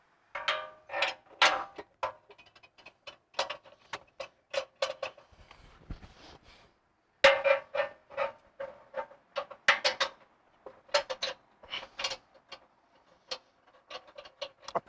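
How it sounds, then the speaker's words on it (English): A ratchet wrench turning the factory mounting bolts of a front bumper on a 2021-or-later Ford Bronco, with rapid clicking bursts in short runs separated by pauses, close and crisp, and no talking. "I'm using this ratchet wrench."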